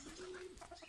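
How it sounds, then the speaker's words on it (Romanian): A pigeon gives a soft, short coo, faint against a steady wash of outdoor background noise. "Ia uite și porumbei."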